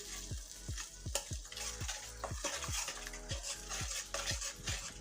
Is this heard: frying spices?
yes